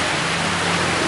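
Steady rain pours down as a dense, even wash of noise, loud and unbroken throughout.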